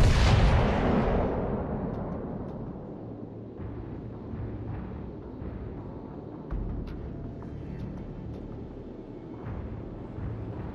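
Warship artillery firing in World of Warships: Legends, opening with a heavy, loud boom that decays into a sustained low rumble with scattered fainter shots and crackles, no talk.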